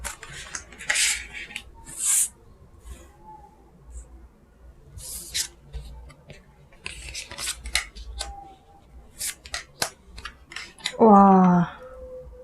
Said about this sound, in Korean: 카드 나열해볼게요.